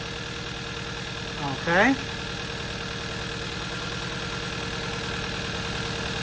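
A car engine, treated with head gasket sealer in its coolant, idles steadily at close range with a smooth, even low drone; someone speaks briefly early on.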